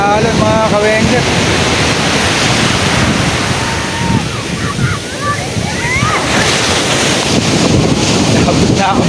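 Loud wind buffets the microphone over the rush of big ocean waves at Bucana beach, Nasugbu, Batangas, with voices talking through much of it.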